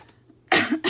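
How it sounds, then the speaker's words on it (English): A single harsh cough bursts out after a quiet stretch, followed by the start of another, close and loud. "I can't stop coughing today"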